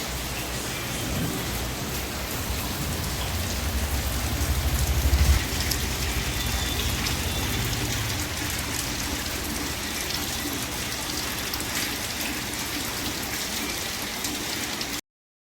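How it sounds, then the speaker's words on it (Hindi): Heavy rain falls in a steady dense roar for the whole stretch, with a deeper rumble swelling midway like distant thunder, and no voices. "देखिए बहुत तेज़ बारिश हो रही है।"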